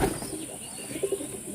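Pet pigeons of Indian show breeds give a few soft, low coos close by. The calls come in brief murmurs at the start and again near the end, over a faint steady background hiss.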